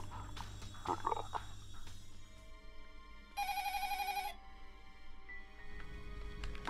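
A telephone rings in one short, bright, trilling burst of about a second, rising out of a quiet, murky room background, fairly faint and with no one speaking.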